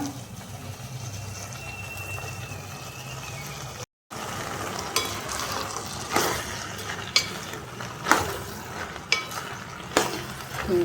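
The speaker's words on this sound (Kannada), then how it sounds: "ಚೆನ್ನಾಗಿ ಮಿಕ್ಸ್ ಮಾಡ್ಕೊಳ್ಳೋಣ" Potatoes and boiled beans are stirred in a pan, a steady scraping and sizzling bed broken by a series of sharper spoon clacks against the metal toward the end, with no talk over it.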